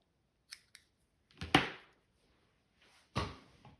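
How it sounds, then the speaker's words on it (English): Scissors snipping stray wool hairs on a handmade gnome: a few light, quiet cuts in separate bursts with pauses between, close up and without talk. "just feel free to grab some scissors and take off the little stray hairs."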